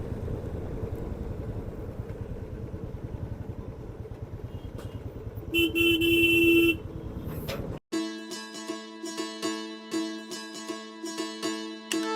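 Road traffic heard from a motorbike ride near Dombivali on the way to Alibag, a steady engine and traffic rumble with one loud car horn blast, then an abrupt cut to a rhythmic, tonal section of repeated pulses.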